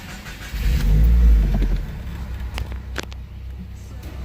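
A 2015 Subaru WRX running E85 flex fuel fires up, the engine cranking into a loud rising rev, then settling to a steady idle with faint clicks nearby.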